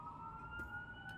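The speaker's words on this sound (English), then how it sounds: "Sirens. Just the worst." An emergency vehicle siren wails outside, a steady faint tone heard at a distance through a room, with no voices over it.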